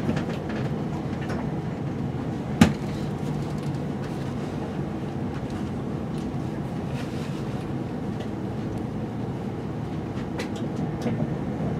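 A passenger train pulls into Newton Abbot station, heard from inside as a continuous low rumble and rattle of the carriage with one sharp knock early on, steady and without talk.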